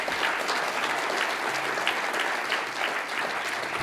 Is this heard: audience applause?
yes